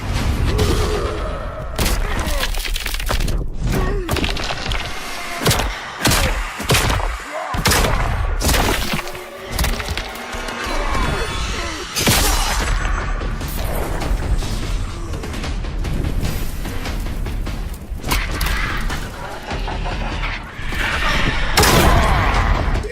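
Hellboy's basic attack combos landing in Injustice 2, a dense run of heavy thuds, booms and bashing impacts, loud and nearly continuous with brief gaps.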